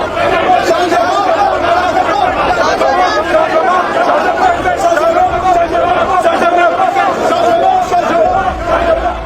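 A dense, loud crowd in Yaoundé welcoming opposition leader Maurice Kamto, with steady overlapping chatter and shouting voices forming a continuous close hubbub throughout.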